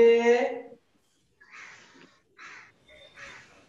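A crow caws several times in short, rough bursts spaced apart with quiet gaps, following a person speaking at the start.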